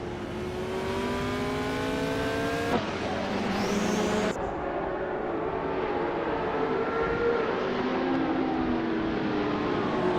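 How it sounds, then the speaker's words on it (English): Race cars accelerate hard into the first turn, engine whines climbing in pitch and shifting as several cars pass, loud and continuous with a brief crowded overlap of engines. "The top three are tightly packed as they accelerate into the first turn."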